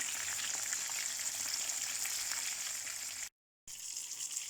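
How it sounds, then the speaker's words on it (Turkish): Continuous bright sizzle of peppers frying in oil, steady and fairly loud, broken by a brief moment of silence near the end. "Biberler kızarıyor."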